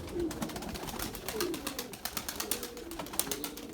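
Pigeon chicks in a loft coo softly while faint wing flutters sound in the background, a steady, moderately close murmur.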